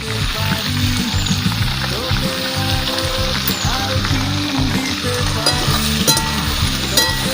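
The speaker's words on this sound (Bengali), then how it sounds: "দেখো মা এবার নেড়ে চেড়ে ভালো করে ভেজে নিচ্ছে" Raw jackfruit pieces, lightly salted, are stirred and fried in hot oil, giving a steady loud sizzle with scraping stirs throughout and a voice talking over it.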